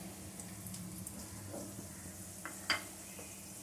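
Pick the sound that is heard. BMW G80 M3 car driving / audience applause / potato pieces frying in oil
potato pieces frying in oil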